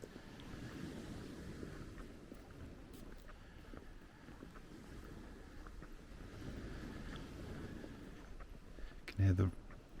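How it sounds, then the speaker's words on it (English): Ocean waves wash faintly at night on the seafront at Llandudno, North Wales, a low distant surf mixed with wind rumble on the microphone, ending in a brief louder bump. "You can hear the waves"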